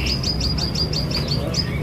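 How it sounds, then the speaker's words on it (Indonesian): A cucak rawis songbird, kept in a cage at a bird sale, chirps in a quick repeated series of short notes over steady low background noise. "Cucak rawis."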